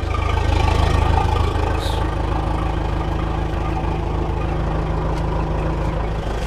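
An engine idles steadily close by, a loud, even rumble with a constant low hum that holds without change throughout.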